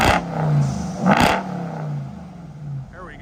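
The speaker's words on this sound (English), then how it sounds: "Give it a rev." A car with an AWE 0FG aftermarket exhaust is revved outdoors in two short, sharp blips, each dropping back to a low idle rumble.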